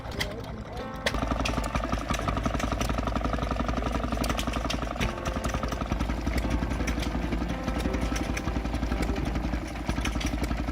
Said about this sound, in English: The chug-pop of the exhaust renders obsolete any theory on wear and tear.